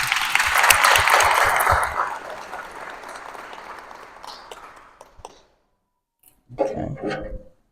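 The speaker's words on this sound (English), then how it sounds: "If you'll just help me applaud." An audience at a lunch-and-learn event applauds a welcomed guest, loud steady clapping that gradually fades out, followed after a short pause by a few clicks and handling sounds.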